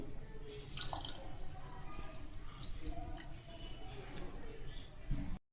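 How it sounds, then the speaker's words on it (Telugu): Tamarind juice poured into a pot of goat trotter curry, heard as faint dripping and light splashes over a steady background hiss. "ఇంగ్రీడియంట్స్లో కొద్దిగా చింతపండు రసం వేయాలి"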